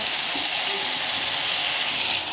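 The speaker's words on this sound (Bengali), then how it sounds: "তেল গরম হয়ে গেছে, এবার আমরা দিয়ে দিচ্ছি পেঁয়াজ কুচি আর ঝিঙে।" Chopped onion and ridge gourd hit hot mustard oil in a pan, giving a steady, loud broadband sizzle and hiss that holds evenly throughout with no talking.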